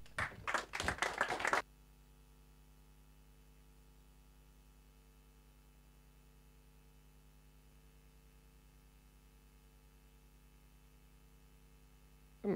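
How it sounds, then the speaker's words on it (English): A short, loud burst of audience clapping at a data talk fades after about a second and a half, leaving a quiet room with a steady electrical hum. "Give him a round of applause."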